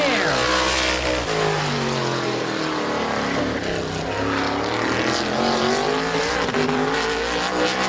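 Race cars roar loudly at the green flag start at Midvale Speedway, a dense, sustained engine drone with rising pitch sweeps as the field accelerates together, continuous and close throughout.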